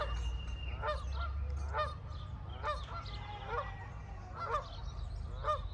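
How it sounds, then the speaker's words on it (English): A flock of geese honking repeatedly in loud, overlapping bursts across the whole stretch, over a steady low rumble in the background. "I think there's some geese down there which you can't quite see on this shot, but it's making out of a racket"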